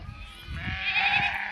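Goats bleat close by, a wavering, nasal cry rising in the second half over low rumbling handling noise.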